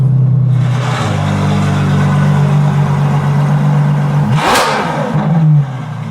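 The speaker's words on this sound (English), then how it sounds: "the audio from the engine paired to a proper exhaust in a Ferrari F12" A Ferrari F12 engine with an aftermarket exhaust rumbles and revs close by, loud and deep, its exhaust note swelling into a sharp rasp before settling back.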